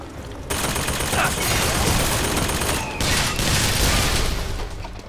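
Sustained automated turret gunfire in Bioshock Infinite: Burial at Sea, loud and continuous, with a brief break before the barrage resumes at full intensity.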